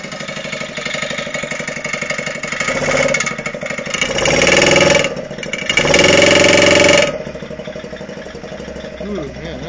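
A small mini quad ATV engine runs just after a cold start, idling unevenly with a rattly muffler and swelling into two louder revs before settling back, loud and close throughout.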